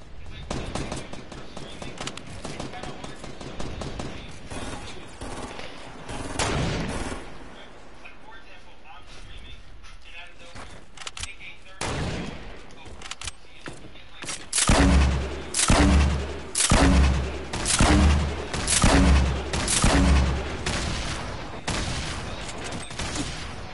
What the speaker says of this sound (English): what y'all shooting at?